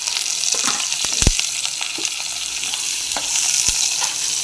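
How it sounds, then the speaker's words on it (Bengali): Onion and chilli sizzle loudly in hot oil, a dense frying hiss broken by several sharp spatula taps and scraping knocks against the pan. "পেঁয়াজ আর লঙ্কাটা দিয়ে দিলাম।"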